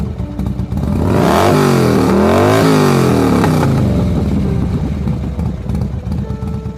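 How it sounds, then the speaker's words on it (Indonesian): A motorcycle engine is revved hard and loud nearby, rising in a sharp whining sweep, holding, then dropping back to a rough rumbling idle. "Suara motor yang sepertinya sengaja digas dengan kencang itu sukses membuat kami kaget."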